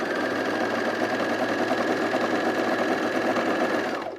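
A sewing machine runs steadily while stitching fleece for a zip hoodie, with its presser foot pressure set a little too high, making a continuous fast whirring hum for about four seconds before winding down at the end, no voices.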